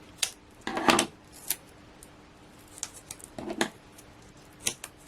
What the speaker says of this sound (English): Grab my scissors.